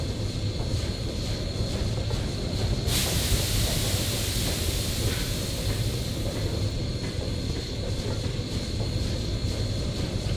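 A freight train on the Bessemer and Lake Erie in Train Simulator 2018 rolls with a continuous rumble and hiss, a sharp high-pitched wheel squeal rising and persisting in the middle, steady and fairly loud throughout.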